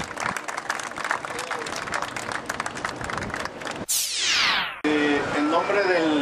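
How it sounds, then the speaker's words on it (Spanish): A neighbourhood gathering applauds a committee treasurer, with several seconds of steady crowd clapping. It cuts off abruptly and is followed by a sweeping electronic tone and other noise. "Fuerte aplauso también para ella."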